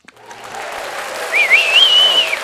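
An audience applauds to welcome a guest onto a show, a building wash of clapping joined by a clear, rising and wavering whistle near the end.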